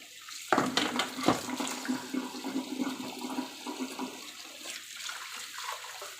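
Tap water runs steadily while raw meat is rinsed in a sink, for cooking a soup with ripe papaya, with splashing and bumps of handling close by and no talk.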